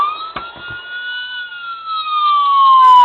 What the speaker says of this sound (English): Hit that again, it's another siren mode.